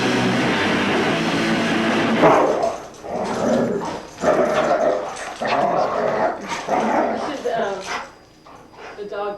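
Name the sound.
dogs barking and yipping in a dog mosh pit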